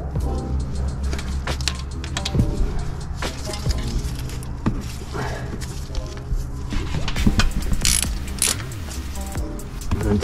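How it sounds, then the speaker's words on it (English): A 12 mm wrench loosens the timing belt tensioner on a Suzuki Carry, its ratchet clicking and grinding continuously and loudly up close amid metallic workshop clatter. "So now I'm just going to be loosening this tensioner with a 12 mil."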